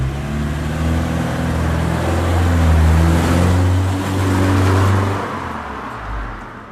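A Subaru Impreza Sport fitted with a Ganador GDE-408 series muffler drives at low speed in Gran Turismo, giving a loud, steady exhaust drone that swells and eases gently, with no voices.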